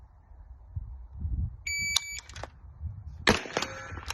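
A brief electronic shot-timer beep sounds, followed moments later by a sharp loud gunshot crack during shooting practice, over faint low rumbling background noise.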